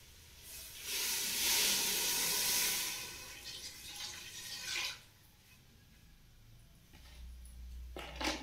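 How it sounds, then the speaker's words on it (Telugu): Water pours into a pan of jaggery being melted for syrup, a loud rushing hiss for about two seconds, then quieter splashing and trickling that tapers off. "దీన్ని గట్టికి ఇక్కడికి వేసేసుకుంటున్నాను నీళ్ళు."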